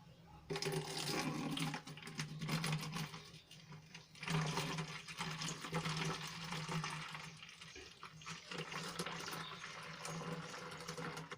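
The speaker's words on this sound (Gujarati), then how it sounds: "તો આને હું હવે બોટલમાં ભરી લઈશ" Homemade dishwashing liquid pours steadily into a bottle for several seconds, a continuous gurgling rush with brief pauses, fairly close and without speech.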